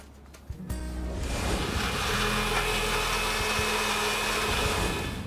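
A kitchen mixer grinds carrot, orange with its peel, and apple for juice, starting with a brief clatter and then settling into a steady, loud whirring roar that runs unbroken throughout.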